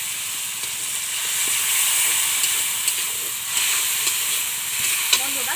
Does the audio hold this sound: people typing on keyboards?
no